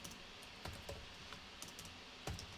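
Keys on a computer keyboard are typed into a command prompt to run Python: a few sparse, faint clicks sit over a steady hiss.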